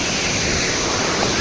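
Waterfall at Cherrapunji, Meghalaya, India's seventh highest, a loud, dense, unbroken roar of rushing, crashing water close by, steady for the whole moment with no other sounds standing out.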